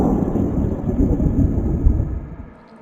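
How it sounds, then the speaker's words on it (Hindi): Deep rumbling thunder rolls on amid stormy wind on a storm-filled night, loud and continuous before easing off toward the end, with no voices. "उसी रात तेज हवा चल रही थी और जोरों जोरों से बिजली भी कड़क रही थी।"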